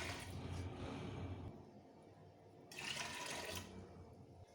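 Water poured into a pressure cooker holding washed chana dal, a close splashing stream that stops midway, then a second shorter pour before trailing off.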